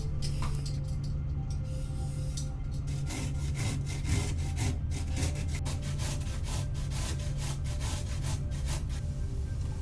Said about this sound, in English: we're going to peel and grate 1 large carrot. I use the small side of a box grater.